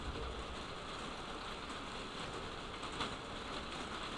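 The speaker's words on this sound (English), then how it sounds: "you can hear the rain on the mic, guys, smashing up against the window" Heavy rain beats steadily against a window, a dense continuous patter picked up close by an indoor microphone, with no talking.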